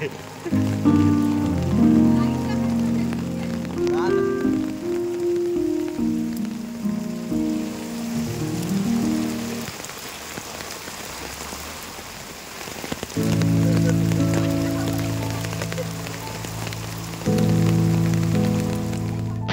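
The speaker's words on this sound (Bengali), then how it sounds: "আমরা এখন লেপচা জগৎ পাইন ফরেস্টে বৃষ্টির মধ্যে" Rain falls steadily in the Lepchajagat pine forest in the Darjeeling hills, a continuous hiss running beneath loud sustained tonal sounds that stop briefly midway and then return.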